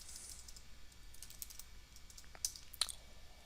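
Soft computer keyboard typing, a few faint clicks and two sharper key presses near the end, quiet and close with no voices.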